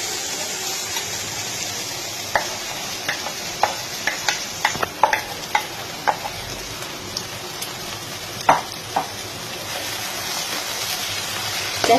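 Katla fish roe goes into a pan of frying masala, a steady close sizzle broken by a series of sharp clicks and taps of a spatula stirring against the pan.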